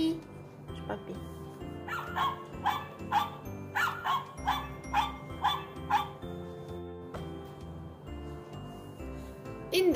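Puppy barking from a children's noisy sound book, a run of sharp, evenly spaced yaps close by over background music.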